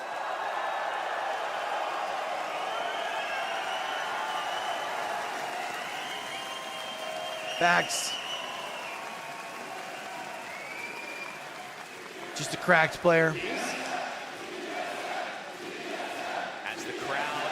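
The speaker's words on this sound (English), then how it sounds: "Crowd, make some noise!" A crowd cheering and applauding at an Apex Legends Global Series championship finals watch party, a sustained roar of noise with a couple of louder shouts rising above it and someone talking over the crowd.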